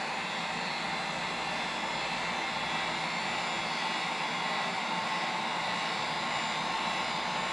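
A heat gun blows steadily across curing resin tinted with alcohol inks and mica powder, a constant, close, airy whoosh with no talking.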